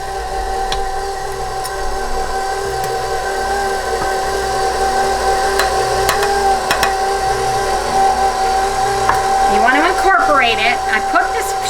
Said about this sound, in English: you take your powder, you turn your mixer on low